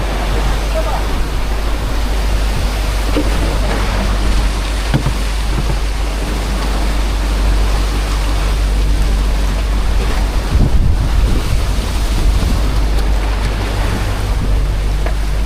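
Heavy wind roars over the microphone while ocean waves surge around a boat at sea on the Pacific during monsoon, a loud unbroken wash of noise with voices speaking underneath.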